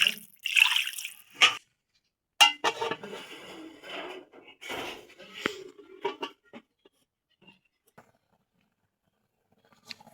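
Water pours and splashes into a pot of goat meat curry in bursts over the first several seconds, then trails off into a few faint drips and quiet.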